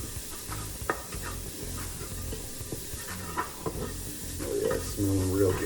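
A tomato sauce base with dried oregano sautés in a pan, giving a continuous close sizzle with occasional spoon scrapes and stirring clatters.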